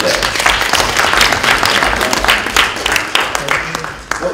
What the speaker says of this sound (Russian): мне аплодисменты всем приятны, но после каждого стихотворения не аплодируют